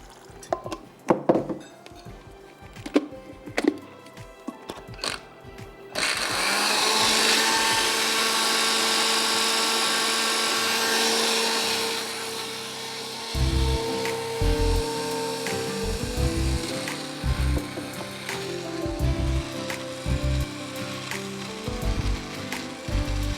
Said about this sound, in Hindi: उनको हमें ब्लेंडर में डाल के पीस लेना है